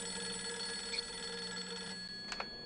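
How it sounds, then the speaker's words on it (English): An old-fashioned telephone bell ringing inside a video game, faint and steady with a continuous ringing tone and a couple of brief clicks, no talking. "You never hear that kind of phone ring anymore"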